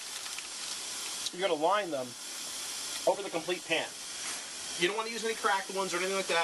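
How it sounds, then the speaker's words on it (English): Water runs steadily from a kitchen tap while a mixing bowl is rinsed during brownie baking, a constant broad hiss that fills the background as someone talks over it throughout. "Sorry about the water noise there."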